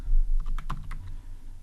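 Quick bursts of keystrokes on a computer keyboard, a handful of close, crisp clicks in an uneven rhythm over a quiet room hum.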